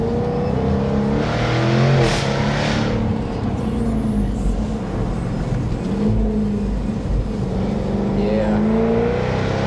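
A Jaguar F-type R V8 accelerates up a steep uphill gradient, its engine note rising and falling through rev sweeps in a loud, close cabin drone, with a brief word spoken over it.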